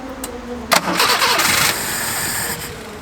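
Old barn-find car with a carburettor needing rebuilding being cranked, the starter motor whirring with a sharp burst, the engine catching briefly into an uneven rough run, then settling to a lower idle-like rumble, close and loud.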